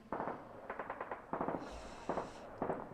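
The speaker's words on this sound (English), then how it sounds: "I don't know if I can show if I can even have gunshot sounds on YouTube" Rapid bursts of gunfire from a played video crackle in short clusters, several volleys in quick succession, moderately loud with a brief higher hiss in the middle.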